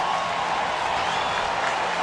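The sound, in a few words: baseball stadium crowd cheering and applauding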